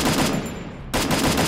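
A gun in a mobile shooter game fires as a dense rattling burst, pauses for a short gap, then resumes with loud rapid automatic shots, close and with no talk.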